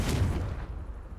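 A Confringo blasting spell cast in Hogwarts Legacy, a single muffled explosive boom that fades out within about a second, no talking.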